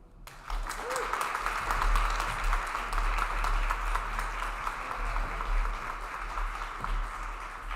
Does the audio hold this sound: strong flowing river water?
no